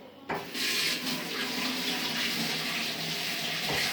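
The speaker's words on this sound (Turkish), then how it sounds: "Ben elim yıkayım." A water tap runs steadily into a sink while hands are washed beneath it, a continuous close splashing hiss that begins abruptly after a brief quiet start and carries on to the end.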